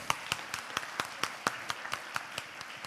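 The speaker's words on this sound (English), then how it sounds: "Please applaud Angel." Audience applause at a live event, heard as a steady run of loud, evenly spaced claps across the whole stretch with a wash of crowd noise underneath.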